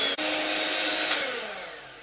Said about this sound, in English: that's been whisking for about 12 minutes